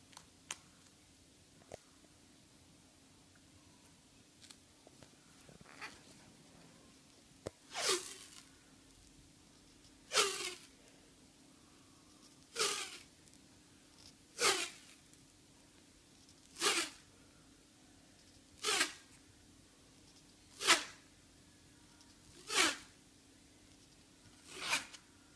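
Blue tape being pulled and wrapped around the end of a hockey stick, a series of regular sharp ripping strips repeating roughly every two seconds, close and clear with no voices.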